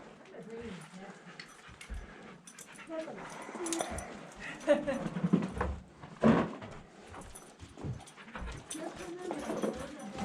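Puppies whimpering and yipping inside a dusty old mining cave, small high-pitched cries scattered through the clip while a person talks over them.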